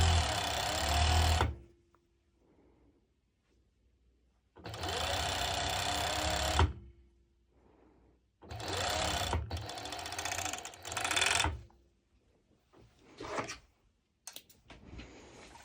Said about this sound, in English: when I'm serging, I'm not pulling. I'm just guiding the fabric.